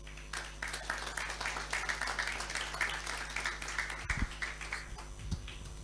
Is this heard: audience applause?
yes